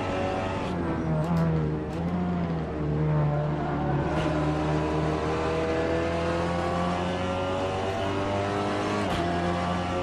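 SEAT Leon TCS race car engine in Assetto Corsa at Watkins Glen: a loud, continuous, buzzing engine note that climbs and drops through repeated revs and gear changes, with faint tyre noise and no talking.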